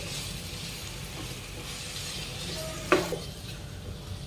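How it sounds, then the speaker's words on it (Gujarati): Carrots and capsicum are stirred through batata poha in a pan, a quiet continuous sizzle with a sharp clack of a spoon against the pan partway through. "અને હવે આ બધું આપણે સરસ રીતે મિક્સ કરી લેવાનું છે"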